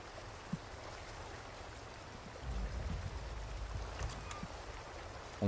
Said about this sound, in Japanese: すげえ水の音する。